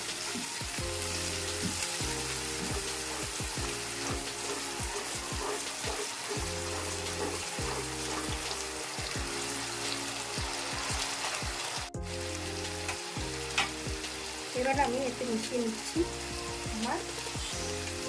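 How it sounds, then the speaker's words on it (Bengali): Ground tomato paste stirred and fried in a pan for a doi katla fish curry, a loud continuous sizzle and crackle with repeated rhythmic scrapes of a spoon throughout. "টমেটোর বাটাটা এটা বেটে রেখেছিলাম সেটা দিয়ে এবার ভালো করে নাড়াচাড়া করব"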